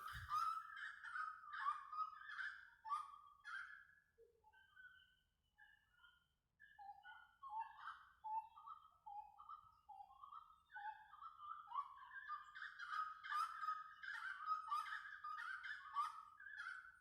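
Backyard chickens cluck and call in a near-continuous string of bright, choppy vocalizations, moderately close in an otherwise quiet setting on a cold morning.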